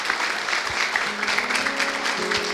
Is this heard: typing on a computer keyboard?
no